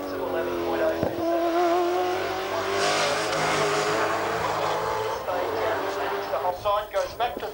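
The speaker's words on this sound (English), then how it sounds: "accelerates up, grabs fourth gear at this point as he goes round the wall" A race car on a flying lap at the 1997 Bathurst 1000, its engine rising in pitch as it accelerates and shifts up a gear, loud and sustained, then fading with broken bursts near the end; commentary runs over it.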